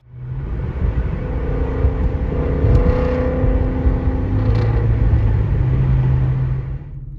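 A car being driven gives a loud, continuous engine rumble and road noise, rising and shifting in pitch as it accelerates, close by with no speech.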